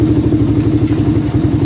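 Honda 400EX ATV engine running, a loud close single-cylinder chugging with a fast, even pulsing beat and mechanical clatter.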